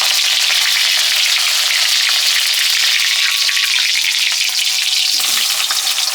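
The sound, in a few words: green chilies added to hot mustard oil with panch phoron, sizzling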